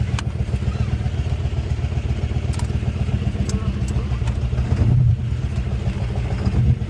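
A Nissan Hardbody truck running a built Ford 302 V8 swap with an AOD transmission drives along, its engine giving a steady low rumble with small rises in revs, heard from inside the cab.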